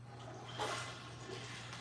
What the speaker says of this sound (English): Hear the toilet flushing.